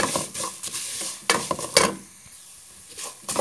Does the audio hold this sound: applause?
no